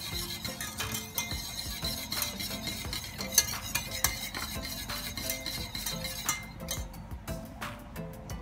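Vinegar stirred into a homemade sweet and sour sauce gives a steady, faint run of spoon scrapes and light clinks against the container, repeating rhythmically with no voices.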